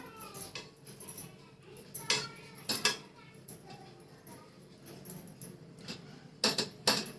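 Dry coconut roasting in a pan is stirred with a utensil, giving a series of light metallic clinks and scrapes at irregular intervals, fairly soft and close.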